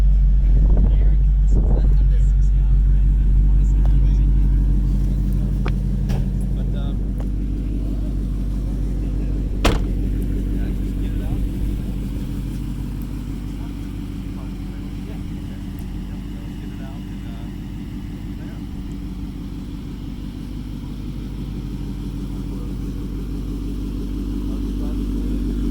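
A 2016 Ford Mustang Roush Stage 3 with a six-speed transmission gives a deep, steady exhaust rumble that idles and swells gently, loud and close throughout, with a brief sharp click near the middle.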